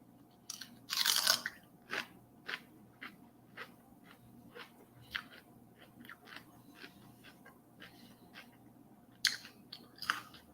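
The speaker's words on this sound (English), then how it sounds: "I like the celery and peanut butter." Someone crunching celery sticks with peanut butter at lunch, with a few loud crisp bites followed by quieter steady chewing and another couple of bites near the end, close and alone.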